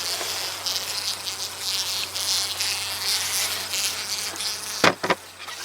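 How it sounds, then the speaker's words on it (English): Honeybees fly around a hive that has just been split, a steady close buzzing drone from several insects with brief louder passes near the end. "This bee's flying inverted."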